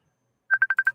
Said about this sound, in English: y'all hear this phone call going